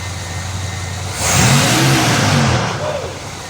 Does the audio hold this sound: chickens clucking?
no